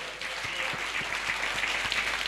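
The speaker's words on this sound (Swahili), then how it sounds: "Patia Bwana makofi mazuri." A church congregation claps during a child dedication service, a soft, fairly distant, even patter of many hands that carries on without a break.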